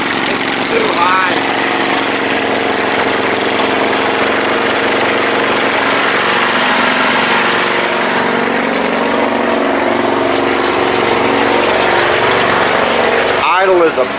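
A Briggs & Stratton 22hp Intek V-twin engine idles too high, a loud, steady running drone that holds continuously with a brief clatter near the end, with a voice heard over it.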